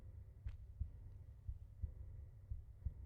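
A steady video game heartbeat thumps low and regular, about six double-beat pulses over a faint droning hum, quiet and alone with no speech.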